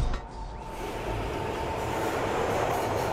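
Train rolling steadily through a level of the crime shooter video game 25 to Life, a continuous rumbling carriage noise with a faint squeal early on, heard alone at a constant level.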